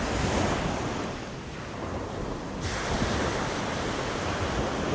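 Surf rolling and washing onto a beach in North Naples, Florida, a steady broadband roar with a slight lull midway, wind buffeting the microphone throughout and no voices.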